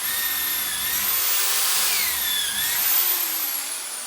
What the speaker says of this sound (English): we are going to drill a hole between the two holes that we